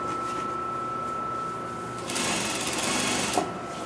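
Sewing machine running steadily as it stitches a skirt seam, a continuous near whir that grows louder and faster partway through, with a brief click near the end.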